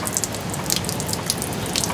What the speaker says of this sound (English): And water will start coming out.